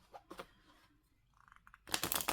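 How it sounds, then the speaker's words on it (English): Small, stiff Kalat oracle cards being shuffled by hand: soft scattered rustles, then a loud, dense papery riffle burst at the end, close up with no talking. "Let's see how it shuffles."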